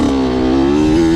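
A dirt bike engine revs hard up close in a short, loud burst of steady throttle, its droning buzz rising slightly before the throttle is chopped.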